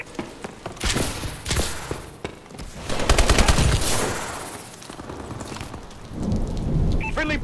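Bombing run explosions in an online shooter roll in as a series of heavy booming blasts and rumbling bursts, loud and close, swelling and fading in waves with rapid crackling impacts between them.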